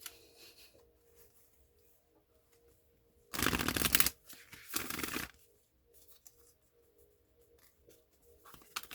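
Two clear bursts of a deck of affirmation cards being shuffled close by, the first longer than the second, set in an otherwise quiet room.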